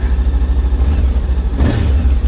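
A Voge 525DSX twin-cylinder motorcycle engine idles with a loud, close, pulsing beat, then revs once briefly before settling back.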